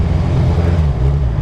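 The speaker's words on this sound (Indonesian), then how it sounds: "Knalpotnya enak banget, halus banget." A 2013 Kawasaki Z1000 fitted with a Vance & Hines slip-on exhaust rumbles close by in a deep, smooth, continuous idle-like drone, with no talking.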